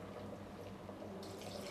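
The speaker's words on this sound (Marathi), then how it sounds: "आता यामध्ये ना पाणी घालूया" Water poured onto washed rice, a soft continuous splash and trickle that is close but faint, with a brighter gush toward the end.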